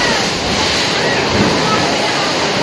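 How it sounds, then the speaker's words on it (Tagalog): Ocean waves crash and churn inside a sea cave, a loud continuous roaring wash of surf with no clear breaks between swells. "talagang makikita mo yung hamplas ng mga alon"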